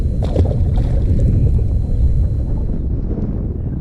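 Strong, steady wind buffets a fishing boat out on the Delta waters, a dense low roar rushing continuously across the microphone with no one speaking.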